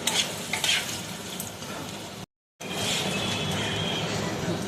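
Chilli chicken cooking in a pan after water is added, bubbling and sizzling steadily with stirring scrapes near the start, broken by a brief gap of silence before the sizzle resumes.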